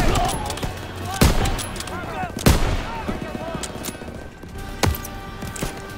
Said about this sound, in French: ces mitrailleuses tirent sur notre position